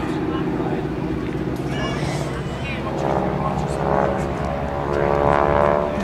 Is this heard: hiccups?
no